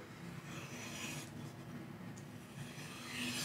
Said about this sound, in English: we're gonna essentially be doing our deburring process on our strop here, just doing long strokes